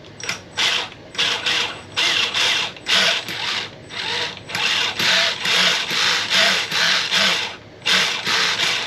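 A Gen7 RC car's electric motor whirs in repeated short bursts, revving forward and backward in a rhythmic on-off pattern, loud and close with brief pauses between runs.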